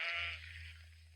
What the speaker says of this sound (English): having a lovely time playing with those sheep